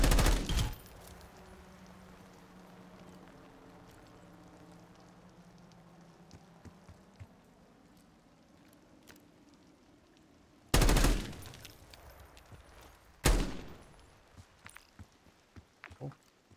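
Black Ops 6 gameplay gunfire: a sharp burst at the start, then two loud, abrupt bursts later, over a quiet low engine-like hum and scattered faint pops.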